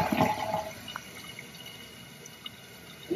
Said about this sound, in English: that looks like a good toilet flush to me